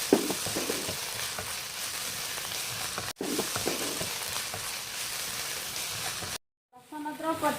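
Garlic-ginger paste sizzles and spatters loudly in a hot pan with butter, punctuated by scraping stirs, a brief pause, then renewed frying.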